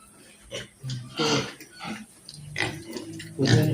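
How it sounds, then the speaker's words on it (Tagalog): Pigs on a farm grunt and snort in a string of short, close bursts at irregular intervals, growing slightly louder toward the end, with no one talking. "Nandito naman tayo sa mga alaga nating baboy."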